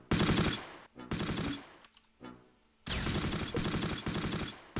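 Gunfire and an anti-tank attack rage in the Close Combat wartime battle game, with loud, dense bursts of automatic fire broken by a short lull and a hollow rumble before sustained shooting resumes.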